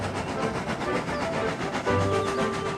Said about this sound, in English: Edward cheerfully buffered up, and the strange train set off.